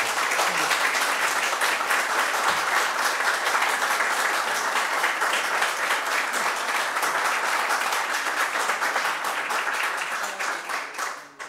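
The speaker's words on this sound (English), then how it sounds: "Let's give them a round of applause." Audience applause after a local history presentation on Euclid Township, a steady dense round of clapping from a room full of people that holds evenly and tapers off at the end.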